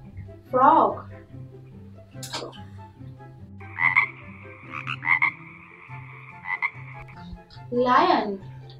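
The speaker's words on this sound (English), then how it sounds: "Frog." A frog croaks in a quick run of short, repeated calls, loud and close, set over a steady looping musical backing with a voice speaking briefly before and after.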